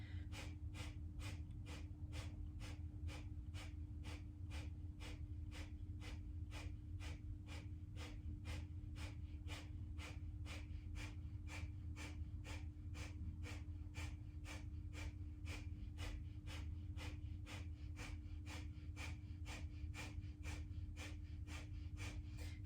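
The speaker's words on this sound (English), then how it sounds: "begin the breath of fire, pumping the navel area" Kundalini yoga breath of fire, a rapid, even train of forceful nasal exhalations pumped from the navel, several per second and close to the microphone, over a low steady hum.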